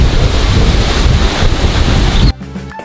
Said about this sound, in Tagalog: At ang pagtunog ng banayad na hangin o yung simoy ng